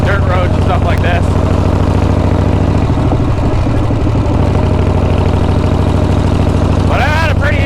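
A Shovelhead motorcycle engine runs loud and steady for the whole stretch, a constant low rumble with a brief shift in texture midway, and no talking over it.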